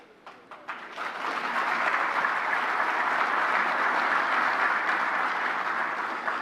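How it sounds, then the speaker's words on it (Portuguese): A few scattered claps quickly swell into sustained applause from a large audience of business leaders, steady and loud for several seconds. "Eu gostei das palmas do Paulo Guedes."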